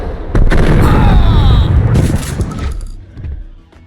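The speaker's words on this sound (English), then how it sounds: "Diving through the air in slow motion while unloading a barrage of bullets never gets old." A barrage of gunshots in a noir shooter video game with slow-motion diving, heard as a dense, loud volley of blasts for a couple of seconds that then trails off into fading echoes, under a narrating voice.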